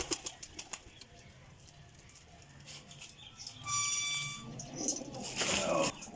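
Pigeons at a loft, with soft coos and a burst of wing flapping near the end, mixed with handling noise and faint background sounds; close and fairly quiet, with no clear talk.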